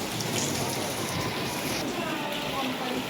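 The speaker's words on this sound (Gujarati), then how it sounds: "અત્યારે ફૂલ વરસાદ આવી રહ્યો છે" Heavy rain falls steadily, a dense, even hiss of pouring water that continues at the same strength throughout.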